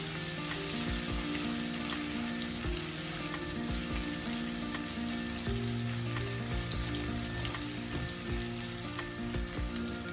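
Fennel seeds sauté in oil for a Sri Lankan chicken liver stir-fry, giving off a steady, close sizzle that crackles throughout, with a faint electrical hum beneath.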